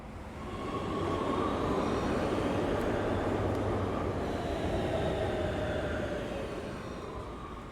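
A subway train in the video game Big Ambitions rumbles steadily for several seconds, a broad continuous roar that swells in and fades slightly at the end, with no talking.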